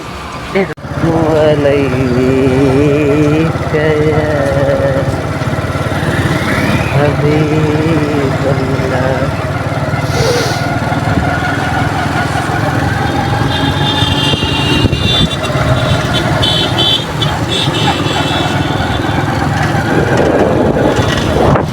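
Steady engine rumble of several idling motorbikes at a crowded petrol pump, loud and continuous, with people talking throughout and a faint whine above.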